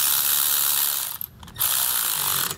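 A ratchet wrench snugs up bolts on a ProPride 3P weight distribution hitch with sway control, giving rapid, loud, close clicking that breaks off briefly midway and then resumes.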